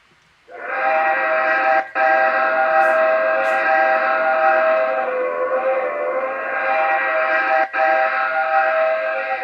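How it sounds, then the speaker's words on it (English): A model Class 37-2 Clear Lake Shay locomotive's sound system blows a sustained, multi-tone three-part whistle loudly for about nine seconds, with two brief breaks in the sound. "And here's the whistle."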